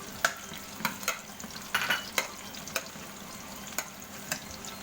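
Garlic sautés in hot oil for Filipino ginisang munggo, a quiet, soft sizzle broken by scattered sharp pops and spatters at irregular intervals.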